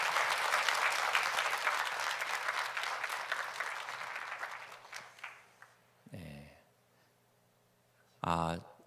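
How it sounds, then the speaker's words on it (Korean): A church audience claps for the worship team, loud sustained applause that fades out over several seconds, followed by someone speaking briefly. "힘찬 격려의 박수 부탁드립니다"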